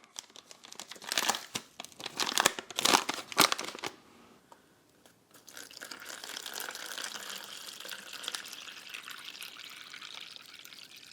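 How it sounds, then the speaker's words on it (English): A US Army First Strike Ration pouch is torn open with loud crinkling plastic bursts, then after a short pause water pours steadily into the pouch, filling it close up. "So all you need to do is tear off the top and fill it with water and give it a shake."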